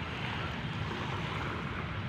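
Rough waves at Manila Bay surge and wash continuously, a dense rushing roar mixed with gusty wind buffeting the microphone.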